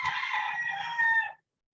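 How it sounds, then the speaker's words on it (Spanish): A rooster crows once, a single drawn-out call lasting over a second before cutting off cleanly, fairly close and clear with no talk. "Ese gallo hace mucha bulla"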